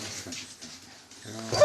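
Sled dogs readied for a winter toboggan run in Canada whine, yip and bark with eagerness, the noise building to a loud burst near the end; a voice can also be heard briefly.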